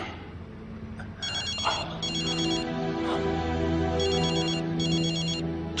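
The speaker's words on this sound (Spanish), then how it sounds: "Llamada de Beryl" A telephone rings with an incoming call, sounding in repeated bursts of electronic trills with brief gaps between them. The rings are clear and close over a low steady background, and no one talks.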